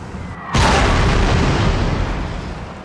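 A cannon fires in the video game Napoleon: Total War, a single loud booming blast that hits suddenly and then rumbles on in a long, broad, fading roar.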